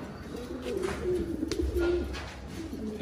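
Pigeons at a pigeon farm in Chattogram, among fancy breeds, give soft repeated coos and low throaty calls over a quiet background, several birds overlapping at close range.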